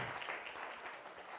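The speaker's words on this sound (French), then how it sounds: "Nous applaudissons le Seigneur." Congregation clapping together in church, a dense, steady wash of applause filling the whole short moment without any break or voices over it.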